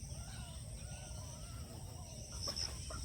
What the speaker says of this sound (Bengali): মুরগিগুলো কত সুন্দর